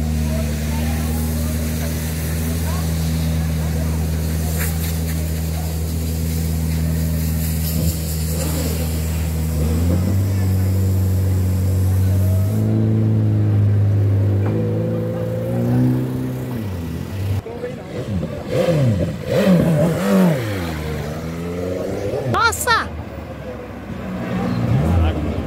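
A turbocharged sports car, such as a McLaren 765LT or Ferrari 812 V12, accelerates hard with a loud rising engine note and shifting pitch sweeps, while several people talk excitedly over it nearby.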